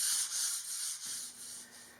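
A shellac-finished mahogany countertop in an RV is hand sanded with 500-grit sandpaper, a soft, close scratching in a few steady back-and-forth strokes.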